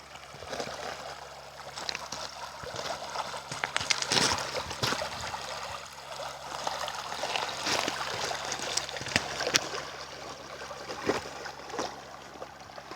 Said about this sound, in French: Avec le petit ruisseau,